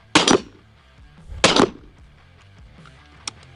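A 12 gauge double barrel Stoger shotgun firing in Red Dead Redemption 2, two loud, close booming blasts about a second apart, each with a short ringing tail, then a faint metallic click.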